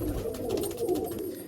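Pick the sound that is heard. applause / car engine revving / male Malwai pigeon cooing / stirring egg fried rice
male Malwai pigeon cooing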